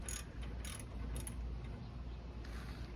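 Hand ratchet working on a rear strut nut of a first-generation Scion xB, a few short bursts of dry clicking near the start and again around the middle, with quieter mechanical ticks between and no talk.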